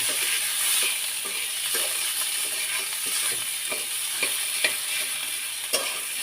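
Spiced mashed potato filling for flour-dough patties fries in a pan and gets stirred, giving a steady close sizzle broken by light scraping strokes throughout, with no talking.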